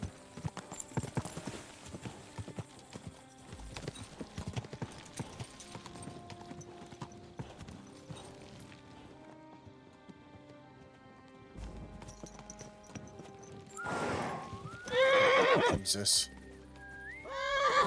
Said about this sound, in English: Bloody horse getting stuck.